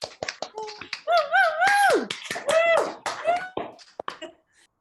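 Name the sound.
applause for the speakers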